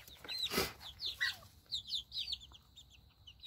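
Chickens in a coop on a small farm give a run of short clucks and squawks, with one louder bird call near the start, close and fairly quiet, no talking.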